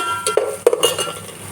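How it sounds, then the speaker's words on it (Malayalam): Ginger, garlic and green chili being sautéed in a pan for biryani, heard as a few short, close scrapes and clinks of a spoon stirring against the pan, with quiet gaps between. "ഇഞ്ചി വെളുത്തുള്ളി പച്ചമുളക് എന്നിവ ഇതിൽ ചേർത്ത് ഒന്ന് വഴറ്റിയെടുക്കാം"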